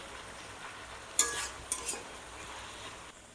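A spoon stirring pointed gourd in a simmering yogurt curry, a few soft scraping strokes and gentle bubbling, faint and close with quiet gaps.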